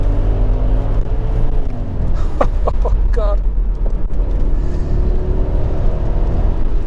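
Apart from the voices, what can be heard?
Audi RS6 twin-turbo V8 engine rumble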